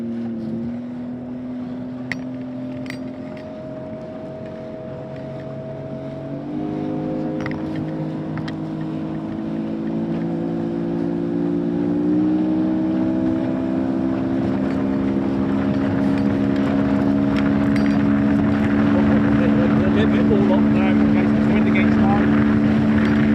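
A powerboat engine drones steadily, then its tone climbs and grows louder as the boat accelerates, with a rising steady hum and no clear talk over it.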